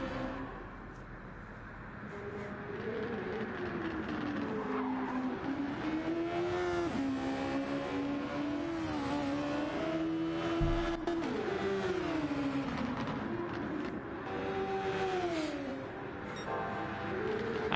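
Race car engines howl continuously around the Red Bull Ring in Gran Turismo 7, a loud, steady drone with rising and falling pitch as cars accelerate and shift through the lap, with no talking.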